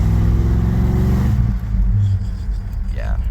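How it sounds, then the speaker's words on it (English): A 1989 Mercury Grand Marquis accelerating, a loud low engine drone with rising harmonics that eases off partway through, followed by rumbling road noise and a brief higher tone near the end. "So let's give this thing another acceleration real quick."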